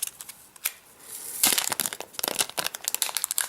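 Plastic wrapping is peeled off an aluminium Apple TV remote, with close crinkling and crackling that starts sparse, then grows into a busy run of rustles.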